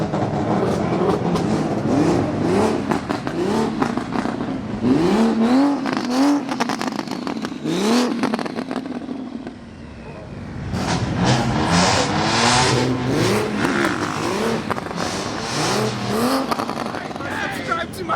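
BMW cars rev their engines at a large car meet in Johannesburg, with loud rising and falling revs and sweeping engine pitches, a brief lull, then more revving amid crowd voices and shouting.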